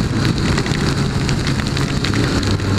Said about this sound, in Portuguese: Tá tomando essa chuva de graça aí, não tá rolando não.